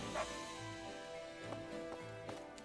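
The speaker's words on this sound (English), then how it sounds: "Another dog." A dog barks a few times in Fire Emblem Warriors: Three Hopes, short yelps spaced out over a steady game music bed with no talking.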